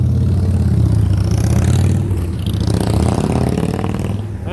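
A motorcycle roars past loudly on a street, its engine noise filling the whole stretch before easing off slightly toward the end, with no talk over it.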